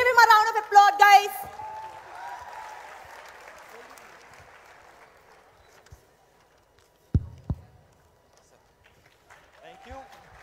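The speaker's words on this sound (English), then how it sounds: "Please give him a round of applause, guys." Audience applause at a youth question-and-answer event with a politician, a burst of clapping under a loud cheering voice at the start that fades into a long thinning patter, with a couple of sharp knocks later and brief talk near the end.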